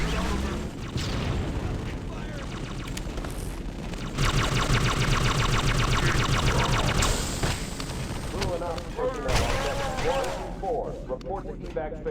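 Rapid gunfire and booming grenade blasts from the Halo SPV3 mod, a dense, continuous barrage that grows louder and busier midway, with repeated explosive thumps layered over steady shooting.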